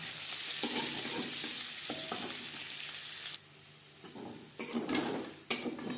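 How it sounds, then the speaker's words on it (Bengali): Paneer cubes frying gently with a pinch of red chilli powder in a pan, a steady soft sizzle with occasional stirring scrapes and pan clinks, quieter midway then rising again, no talking. "হালকা করে ভেজে নেব।"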